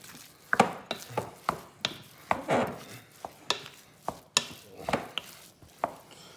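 Chopped wonton filling ingredients being mixed in a bowl, a series of sharp, evenly spaced knocks and thuds with soft scraping between them, close and clear, no talking.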